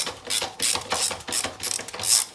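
A ratchet wrench loosens nuts on a Citroën 2CV engine block, clicking in about six quick bursts of rapid pawl ratcheting, loud and close, with short pauses between strokes.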